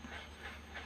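A mother dog nursing puppies a few days old pants close by, in quiet, rhythmic breaths repeating about every third of a second.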